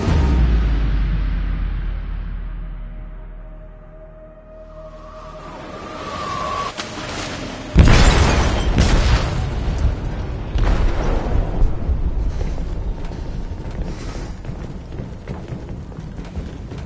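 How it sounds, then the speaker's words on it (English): A deep rumbling blast goes off in a ship's hold in Detroit: Become Human, a sudden loud boom followed by sustained churning roar and debris noise after a quieter low hum. "They detonated an explosive in the hold."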